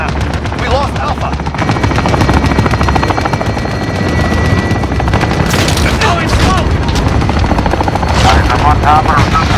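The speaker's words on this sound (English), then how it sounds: "Allied chopper gunner arriving now" An allied chopper gunner helicopter in Call of Duty Modern Warfare drones loudly and continuously, mixed with rapid machine-gun fire, bursts of gunfire and booms, all dense and close.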